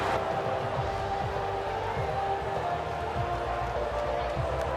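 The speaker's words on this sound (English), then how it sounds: "they thoroughly deserve the cheers of the crowd here today" A crowd cheers and claps at the track in the F1 24 racing game, a steady dense roar with scattered claps throughout, low thumps and a commentator talking over it.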